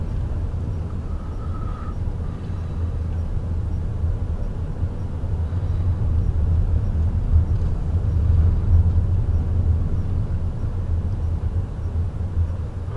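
Inside a rental car driving through the small town of Zeigler, Illinois, a steady low road and engine rumble runs throughout, swelling slightly midway, with no talking.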